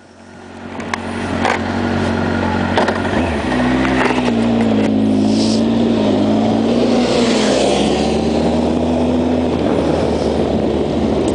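A motorcycle rides along Brighton Boardwalk, its engine a steady loud drone with a wavering hum, rising at the start and holding level throughout with strong wind rush.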